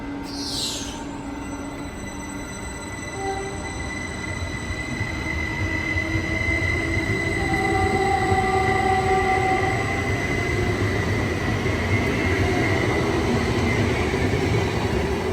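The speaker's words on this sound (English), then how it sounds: "137 is now highballing out of Menlo Park Station." Caltrain train 137 pulls out of Menlo Park Station in California, a continuous loud rumble of wheels on rails with sustained squealing tones, steady and close throughout.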